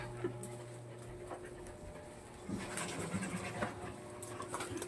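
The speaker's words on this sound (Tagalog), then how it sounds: "Yan ang aso kong pasaway." A dog pants quickly and steadily nearby, with a few soft whimpers and faint shuffling in a quiet room.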